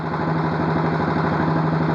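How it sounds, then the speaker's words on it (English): A Royal Enfield Classic 500 motorcycle engine idles close by with a steady, even low thump, loud and alone. "Now I started the bike."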